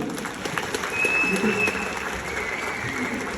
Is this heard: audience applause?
yes